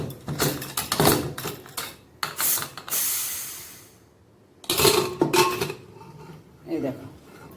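A pressure cooker lid being twisted and opened after cooking hilsa fish, with sharp metallic clanks and scrapes in bursts, a brief hiss of released steam, and more clatter at close range.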